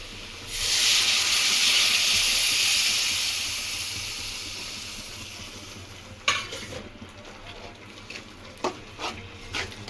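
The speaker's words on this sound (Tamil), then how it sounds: "ஒரு எலுமிச்சம்பழம் அளவு புளியை ஊற போட்டு கரைச்சி எடுத்துருக்கேன், அதை ஊற்றிடுறேன்" Tamarind water poured over shallots and garlic sautéed in oil, giving a loud sizzling hiss that swells at once and slowly fades, followed by a few sharp stirring clinks against the pot.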